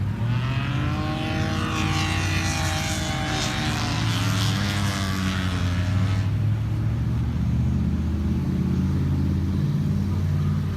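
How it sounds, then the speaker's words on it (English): A Mazda RX-7 fitted with a large V8 revs at a race track, a loud engine note rising and falling in sweeping pitch for several seconds, then settling into a steadier drone. "There's an RX-7 with a gigantic V8 in it."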